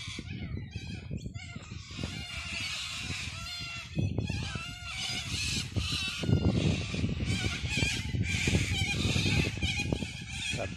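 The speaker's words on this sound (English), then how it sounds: "Birds are going nuts." Many birds call loudly and continuously in floodwater country near Sturt Highway, a dense layered chorus of squawks and chatter at close to middle distance, growing busier after a few seconds, with no talking.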